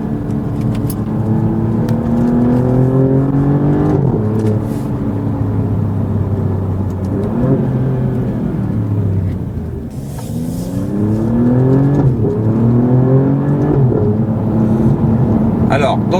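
A 510 hp Alfa Romeo Giulia Quadrifoglio accelerates hard on narrow country roads in Picardy, its engine note climbing through repeated gear changes inside the cabin while someone talks over it.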